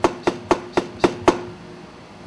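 Six sharp hammer blows land in a quick, even rhythm while a cushion is being secured, then a pause and one more strike, close and fairly clear.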